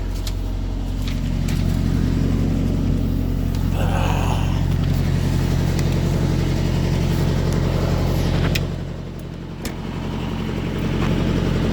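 A truck engine idles steadily in a loud, constant low rumble at a port delivery, then dips briefly near the end as it is shut down before the drone returns.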